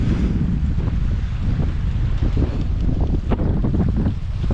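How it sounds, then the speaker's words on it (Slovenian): Strong gusts of wind, near 30 knots, buffeting a sailboat off Symi in Greece, a roaring rumble of wind noise on the microphone mixed with slapping water and rigging clatter. "Zdaj je bilo sunk skoraj 30 vozlov"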